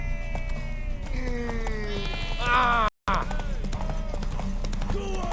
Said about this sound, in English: Hope the horse doesn't lose his stamina on the way.